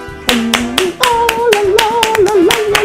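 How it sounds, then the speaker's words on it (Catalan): Hands clap in a brisk, irregular run of sharp strikes in a theatre setting, close and loud, with a sustained sung or hummed tone weaving underneath. "has d'aplaudir en les 3 sortides dels actors"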